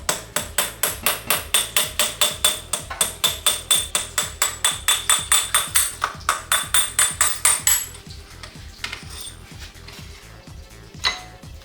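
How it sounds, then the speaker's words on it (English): A punch hammered against the rear wheel axle of a Moto Guzzi Nevada, Breva or V7 motorcycle: a fast, even run of about thirty sharp metallic taps, then quieter handling clinks. "Now I tap the axle out using a punch"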